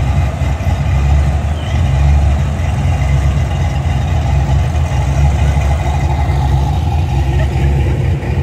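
Modern muscle car engine snarling at a classic car show and cruise, a steady low rumbling idle heard continuously in the background with outdoor crowd ambience and no clear talk.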